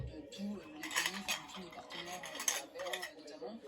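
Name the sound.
teaspoon scooping honey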